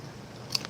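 A single crisp crunch as a dry wheat cracker dipped in gravy is bitten, brief and close against a quiet background.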